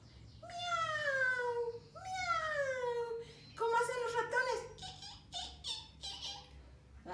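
A person imitating a cat, voicing several drawn-out meows in a row, close and clear, the later ones shorter and choppier.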